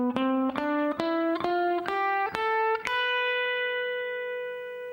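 An electric guitar with a distorted, sustained tone plays the Locrian mode from B as a rising run of single notes, each picked cleanly with a sharp attack, ending on a long ringing top note that slowly fades.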